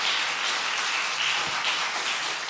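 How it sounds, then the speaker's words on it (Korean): A church congregation claps at a Sunday afternoon worship service, a sustained wash of many hands applauding evenly and fairly loud, with no voices over it. "박수 한번 해주시길 바랍니다"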